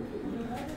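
Pigeons at a pigeon sports festival in Gujrat, being stamped, give a brief, low, soft coo, faint and close, over a muffled background.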